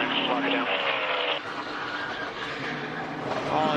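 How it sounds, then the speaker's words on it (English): A NASCAR stock car engine held at full throttle at about 160 miles an hour during the 2018 Coca-Cola 600, a sustained loud roar that drops in pitch as it passes, with a commentator talking over it. "Did you hear that? Stayed in the throttle."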